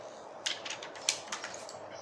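Protective paper peeled off a new Xtouch X4 smartphone, giving a quiet series of crisp, crackling pulls in uneven bursts, close by with no talking.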